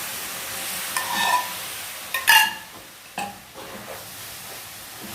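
Semolina laddu mixture with milk stirred in a pan, a few scraping strokes around one to three seconds with a soft sizzle beneath, then a quieter stir later; no talking.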